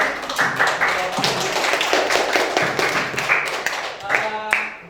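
A classroom gives a group a round of clapping after their presentation, a dense patter of many hands close by mixed with voices talking over it.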